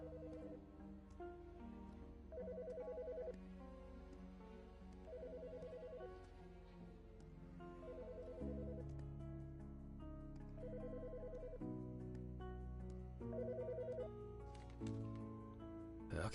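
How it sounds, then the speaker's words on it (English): A telephone rings in repeated short bursts, several times in a row, over a quiet musical background with no one talking. "The fucking phone."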